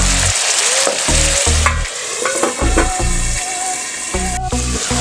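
Yam curry sizzling loudly in a pan as it is stirred, with steady frying hiss and repeated scraping stir strokes throughout.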